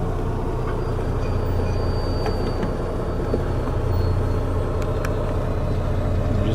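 A 2012 Volvo 780 truck with an I-Shift transmission reverses out of a shop door, its steady low engine rumble running continuously and fairly close, with a few faint clicks and no speech.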